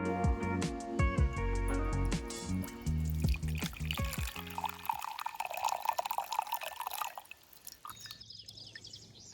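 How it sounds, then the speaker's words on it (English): A drink is poured and trickles into a glass at a cabin, following a stretch of plucked music, then fades into a few soft drips. "Now pour yourself a drink."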